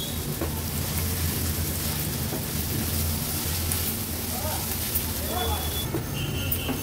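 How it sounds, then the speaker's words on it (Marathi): Chopped onion and green chillies sizzling in oil in a pan for egg bhurji, a steady loud crackling hiss heard throughout, with someone speaking over it. "आता कांदा आपल्याला व्यवस्थित शिजवून घ्यायचा आहे।"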